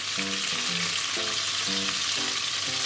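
Pork-wrapped new potatoes with cheese sizzle in a pan over high heat, a steady loud frying hiss running without pause from start to finish.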